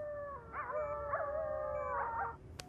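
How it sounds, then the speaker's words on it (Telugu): Jackals howl in a film scene, several wavering, overlapping cries rising and falling in two bursts, moderately distant over a low rumbling background, ending with a brief sharp click. "ఏంటి నాడిలో నక్కలు అరుపులు వినిపిస్తున్నాయి?"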